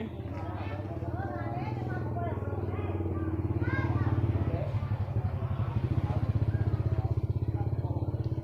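Engine of an old, worn vehicle running noisily, a steady low rumble and rattling throb that swells louder midway, close by under a person talking throughout.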